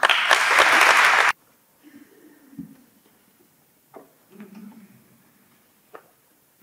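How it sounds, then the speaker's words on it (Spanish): Short burst of audience applause at the Christmas proclamation ceremony in Guadalajara, loud and dense for about a second before stopping abruptly, followed by faint shuffling and quiet murmurs. "Recibámosla con un cariñoso aplauso"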